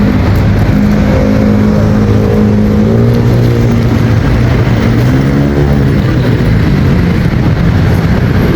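Dense street traffic of many cars and jeeps in the Philippines, a loud, continuous roar of engines and tyres with shifting, rising and falling engine tones from vehicles moving close by.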